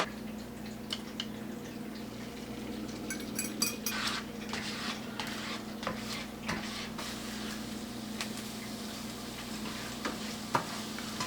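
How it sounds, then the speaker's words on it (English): Steady crackling sizzle of food frying in a pan, with scattered sharp ticks and pops over a constant low hum. "let this sizzle around"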